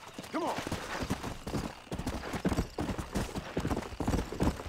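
Hooves clip-clop in Red Dead Redemption, a horse moving at a steady walking rhythm, close and fairly loud. A short whinny comes near the start, and a voice talks over the hoofbeats.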